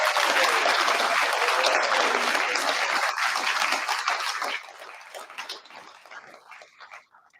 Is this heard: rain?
no